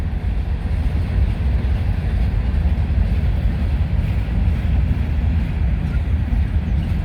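A freight train rolls past at Canal Ridge Road hauling empty Tropicana refrigerated boxcars with their reefer units switched off, giving a steady, loud low rumble that holds evenly throughout with no voices.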